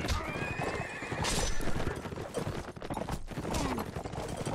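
Horses neighing and whinnying with clip-clopping hooves in a video game battle, loud and dense amid constant clashing and action noise, with a brief shrill whinny standing out.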